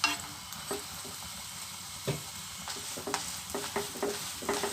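A paratha frying in oil on a pan for a chicken paratha roll, close crackling sizzle punctuated by several sharp spatula scrapes and taps as it is turned.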